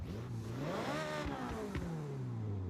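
A Dino sports car in Forza Horizon revs its engine, the pitch sweeping up then easing down through a gear change before climbing again, loud and close with no talk.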